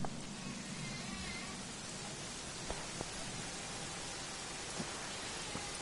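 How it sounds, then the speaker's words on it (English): Steady, dense hiss of rain falling in the video game Dragon Quest 11, an even wash of sound with a few faint taps and thumps, no talking. "it was raining like this the last time I ever saw her"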